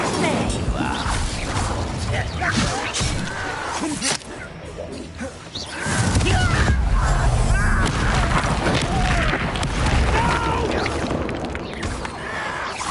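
Hogwarts Legacy combat: an Incendio fire spell erupts in a dense roaring burst of booms and whooshes with game music, loud and continuous, while a voice talks over it.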